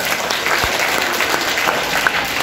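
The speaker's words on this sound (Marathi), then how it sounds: "एकदा जोरदार टाळ्या होऊन जाऊ द्या अक्षर गटात." A room at a Marathi Day school quiz at a primary school in Latur breaks into loud, steady applause for the Akshar team, with dense clapping throughout and no pauses.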